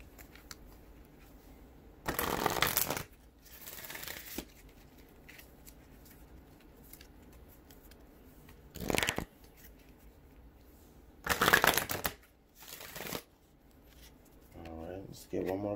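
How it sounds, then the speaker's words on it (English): Oracle card deck being shuffled by hand in a few separate bursts, each a brisk riffle of a second or so, close and fairly loud against a quiet room. "Let's get one more good shuffle."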